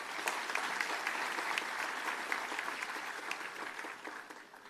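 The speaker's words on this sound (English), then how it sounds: "A huge round of applause for her." Applause from a lecture audience, a dense even patter of many hands clapping together that holds steady throughout and thins slightly at the end.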